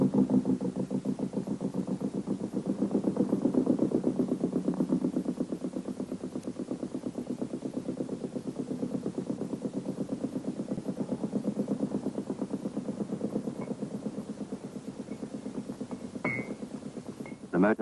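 A motorboat engine runs steadily near a landing jetty while towing and then slipping a whaler, a continuous mid-pitched throb with a slight swell early on, heard under a voice.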